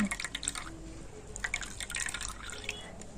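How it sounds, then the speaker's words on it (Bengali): Beet juice drips and trickles through a sieve, light liquid splashes and pattering drops at close range, fairly quiet with no speech. "তো বিটের জুসটাও আমি একইভাবে ছেঁকে নেব"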